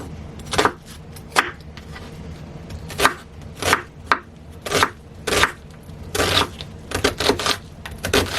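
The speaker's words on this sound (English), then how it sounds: "I have the green onions and white onion diced up." A knife chops green onions and a white onion on a board, with about a dozen firm, close thuds coming in irregular bursts and a quick flurry near the end.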